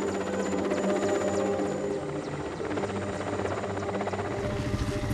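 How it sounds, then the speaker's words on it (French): Steady, loud helicopter rotor thumping with a constant engine whine, continuous throughout and close by, as a ship's helicopter delivers supplies on Wrangel Island. "l'hélicoptère du bord va déposer ses caisses de matériaux et de nourriture"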